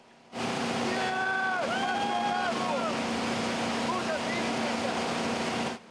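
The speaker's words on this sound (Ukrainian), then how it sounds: "Катер на швидкості створюватиме хвилі, які нагадують морські." A loud, steady rush of a speeding motorboat and churning water as it makes sea-like waves for surfing, with wind buffeting; muffled voices rise briefly over the roar.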